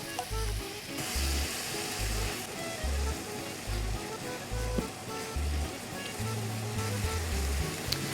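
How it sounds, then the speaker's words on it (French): Tomatoes and onions sizzle steadily in hot oil in a pan, a continuous frying hiss with some low bumps from stirring, close and alone without talk. "ici on fait bien suer nos tomates, bien les faire revenir pour les cuire assez vite."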